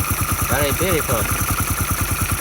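A restored engine, fitted with an alternator, igniter and carburetor, runs at a steady idle with a fast, even chugging pulse close by, while a voice speaks briefly over it.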